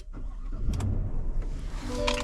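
A 2025 Chevy Silverado with the 5.3 V8 cranks and fires up, the engine catching with a low rumble and exhaust note that settles into a steady idle, close and loud, with a brief whirring click partway through.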